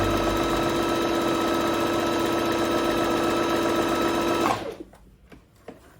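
Bernette B05 Academy sewing machine running fast on a steady stitch, a loud continuous mechanical whir with a buzzing hum that stops abruptly near the end, leaving faint clicks.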